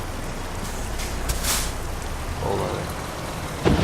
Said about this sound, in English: Wow, that's some rain.